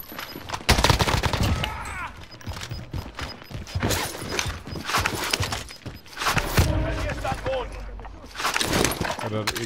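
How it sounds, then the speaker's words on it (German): Repeated loud bursts of automatic gunfire in the video game Call of Duty: Modern Warfare, coming in several clusters with short gaps between them, with a voice speaking in the lulls. "Ich werde beschossen."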